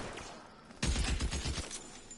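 Gunfire in the video game L.A. Noire: a sudden burst of rapid shots starts partway through and continues as a dense, loud volley.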